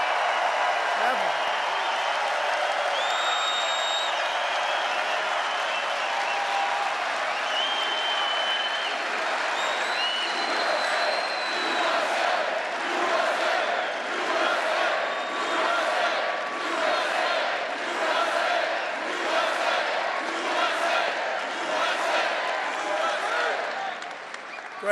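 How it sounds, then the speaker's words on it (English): A large political rally crowd at a Saturday night Trump event cheers, whistles and applauds loudly and continuously, a dense sustained roar of clapping and shouting that swells slightly toward the end. "this crowd has a lot of enthusiasm"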